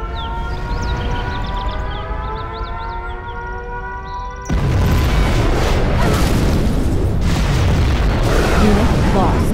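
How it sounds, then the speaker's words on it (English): Nuclear missile strike in Command & Conquer Generals Zero Hour, where a warbling siren wails over a drone and then a huge, loud blast erupts midway and keeps rumbling and roaring to the end. "We have launched our nuclear missile."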